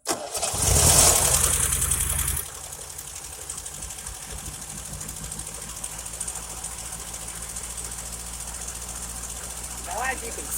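A 1979 MGB's engine cranks and catches with a loud, rough burst lasting about two seconds, then settles into a steady, lower idle that runs on with a faint hum and a slight rise near the end.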